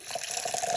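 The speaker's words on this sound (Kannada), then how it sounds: "ಅದಕ್ಕೆ ನೀರು ಹಾಕಿ" A brief trickle of water pours into a bowl of dried peas, a short splashy run of liquid with no voices.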